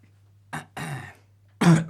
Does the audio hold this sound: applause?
no